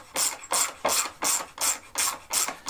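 A bolt is screwed in by hand into a wooden carving stand, giving a regular ratcheting rasp repeated about seven times in quick even strokes, close and fairly quiet.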